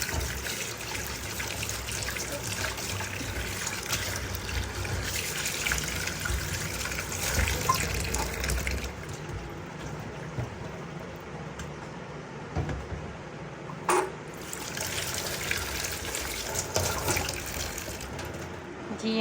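Items are rinsed under a running tap in a village home kitchen, a steady close gush and trickle of water with occasional clinks and shifts in flow, continuing without talk.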